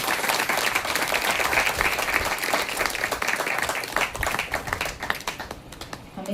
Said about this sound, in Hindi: प्रभु ले जोरदार ताली बजाओ